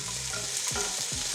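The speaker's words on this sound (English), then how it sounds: "Traditionally, you start with your curry leaves, and then we're going to put our onions and garlic in" Onions and garlic frying with curry leaves in hot oil, a steady bright sizzle with a few soft stirring scrapes, close and continuous with no talk.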